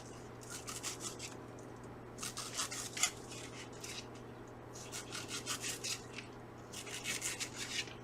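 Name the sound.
knife cutting strawberry into thin slices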